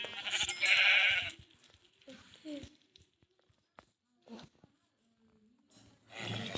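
Sheep bleat loudly up close, then fainter bleats and rustling follow, with a voice talking briefly in between.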